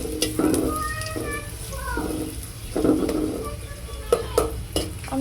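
Onion sizzles as it fries in oil in a pan while a home cook stirs it, a steady crackling hiss broken by scraping stirs and clinks, close up under quiet speech.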